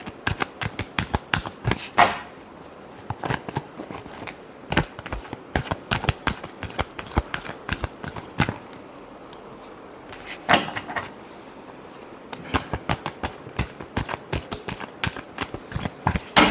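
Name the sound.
tarot cards being shuffled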